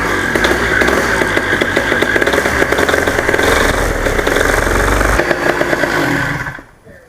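A cold paramotor engine runs with its throttle cracked open, a loud, steady buzzing drone that holds for about six seconds before cutting out abruptly near the end.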